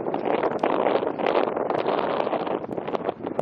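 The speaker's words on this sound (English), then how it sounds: "The wind has picked up" Strong wind gusting across the microphone at a Painted Desert overlook in Petrified Forest National Park, a continuous close rumbling buffet with no speech.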